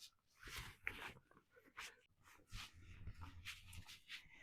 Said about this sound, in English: So I'm taking our dog Koba for a walk today as I explain how we did this marathon. And so you're going to hear his noises.